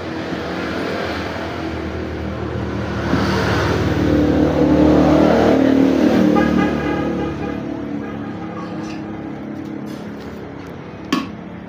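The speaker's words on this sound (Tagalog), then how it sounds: "marami na sasakyan dumadaan kaya medyo maingay yung video natin" Passing vehicles on a busy afternoon road beside a workshop, a broad rumble that swells as one goes by near the middle and then fades, ending with a brief sharp knock.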